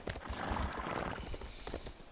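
Faint hoofbeats clop in a fast, continuous rhythm as a horse gallops in the video game Elder Scrolls Online, under a wash of background noise.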